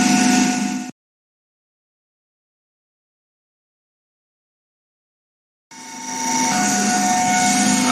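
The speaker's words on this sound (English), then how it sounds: "So now we can see that DC machine is running" A running DC machine driving a synchronous machine gives off a steady whirring hum with a faint tonal whine. It plays briefly, drops to silence for several seconds, then returns at the same level.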